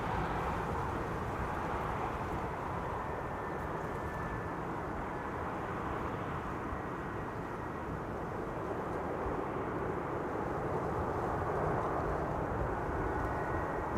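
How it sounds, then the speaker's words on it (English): A VistaJet Germany business jet on the glide slope into Amsterdam Schiphol, arriving on runway 36 right, gives a steady, moderately distant roar that holds evenly throughout with no voices. "Next up, VistaJet Germany arriving on 36 right."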